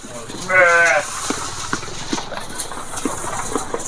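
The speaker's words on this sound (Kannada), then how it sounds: "ನೋಡಿ ಇದು ಮರಿ" A lamb of a native breed on a farm bleats once, loudly and close, against steady outdoor background noise with scattered clicks and rustles.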